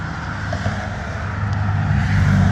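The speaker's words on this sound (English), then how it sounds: "Hopefully the cars going by on the road aren't too terribly loud" Steady road traffic with cars rushing past, a continuous engine and tire roar that swells louder toward the end, with no voices.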